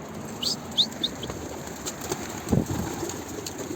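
Wings flap as a pigeon takes off and flies, a few quick soft bursts of flapping amid outdoor ambience, with a voice calling the bird faintly nearby.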